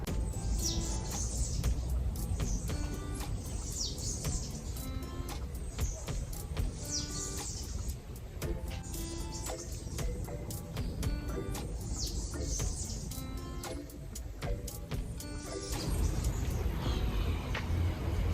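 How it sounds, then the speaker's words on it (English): Birds chirping and calling repeatedly in a jungle, bright tweets scattered over a steady background hiss of ambient noise and rustling leaves. "you can literally hear the birds, you can hear the rustling in the leaves"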